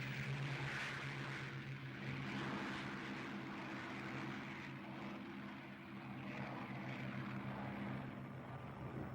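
World War II Japanese carrier-based propeller aircraft flying in a strike at Leyte Gulf produce a continuous, rough engine drone that holds steady throughout, fairly faint and without voices.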